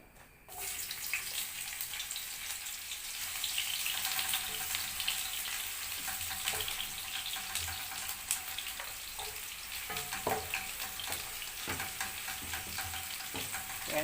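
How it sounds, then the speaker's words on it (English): Chopped onion frying in hot oil for a plantain pizza topping, a steady close sizzle with occasional stirring clinks and scrapes running throughout, no talking. "So my oil is here, so I'll put my onion for frying"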